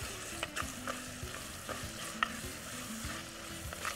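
Ingredients sauté in a frying pan on a cooking show, with a steady sizzle beneath repeated rhythmic scrapes of a spatula stirring the mix, close and continuous, without speech.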